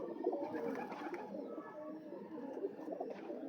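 Pigeons coo softly and repeatedly in a quiet setting, a continuous low murmuring of several birds with no speech.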